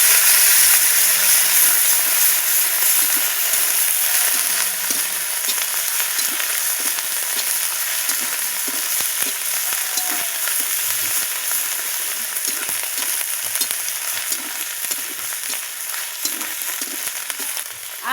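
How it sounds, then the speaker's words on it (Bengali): Ginger and garlic paste sautéed in a pan with onion and capsicum, a steady loud sizzle lasting the whole stretch with occasional soft stirring scrapes, no talking. "আদা রসুনটাও আমি ভালো করে কষিয়ে নিয়েছি"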